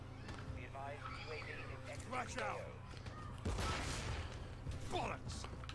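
Sharp, fairly faint gunshot bursts from Call of Duty multiplayer crack out in the background, partly spread out and distant-sounding, mixed under someone talking.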